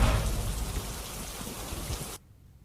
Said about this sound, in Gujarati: દ્વારકાના ભાણવડ તાલુકામાં પણ વરસાદ વરસી રહ્યો છે